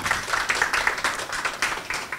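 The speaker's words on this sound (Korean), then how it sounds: "여러분 이봉재 부사장님 박수로 환영하도록 하겠습니다." Audience applause welcoming a vice president to the stage at a Korean internet-industry talk event, a steady patter of many hands clapping with small surges, moderately loud and without speech.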